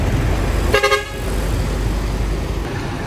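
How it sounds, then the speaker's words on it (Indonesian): A Restu Panda bus rolls past on a road with a steady broadband roar of passing traffic, punctuated by one short horn toot early on. "Ini ada yang lewat bus"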